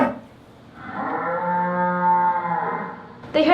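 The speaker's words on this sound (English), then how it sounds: "the 3 cows set up a loud lowing." A single long, loud, drawn-out cow moo rising and holding steady, close by, alone with a brief noise at the end.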